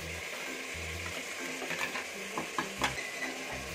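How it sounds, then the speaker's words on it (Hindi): Spices and tomatoes roast in a pan on high heat with kasoori methi, garam masala and cumin powder, a soft steady sizzle broken by intermittent scraping stirs of the spoon, fairly close and quiet. "इन सभी को हमें 2 से 3 मिनट अच्छे से भून लेना है टमाटर गलने तक"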